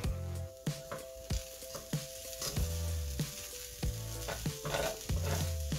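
Seasoned salmon with black pepper and quinoa is stirred in a frying pan: quiet, steady sizzling broken by regular spatula scrapes and taps against the pan.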